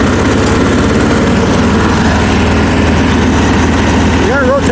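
A Simplicity 5116 garden tractor engine runs steadily at idle throughout, a loud, close, continuous low rumble with a rhythmic chug and no pauses.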